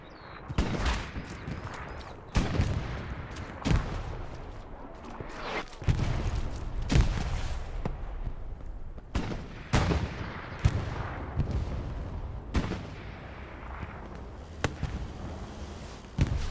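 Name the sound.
gunfire in Company of Heroes video game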